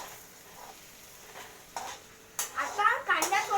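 Onions stirred as they fry in a pan for masala Maggi noodles; quiet at first, then louder scraping stirs and crackling sizzle build toward the end, close up.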